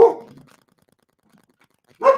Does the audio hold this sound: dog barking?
yes